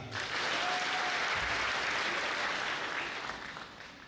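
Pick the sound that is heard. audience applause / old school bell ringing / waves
audience applause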